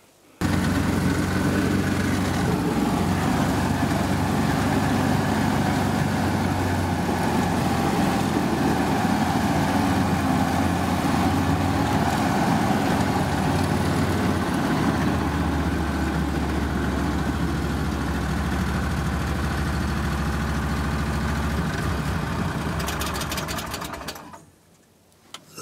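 A vehicle engine runs steadily on a drive back toward a village, with a loud, continuous mechanical drone that holds for over twenty seconds before cutting off near the end.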